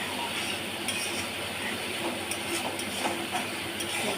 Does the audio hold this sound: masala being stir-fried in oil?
yes